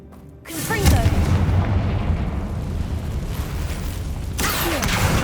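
Confringo fire spell explosion in the Hogwarts Legacy video game: a deep booming blast with a rumbling, crackling tail, loud and sustained, with game effects over it.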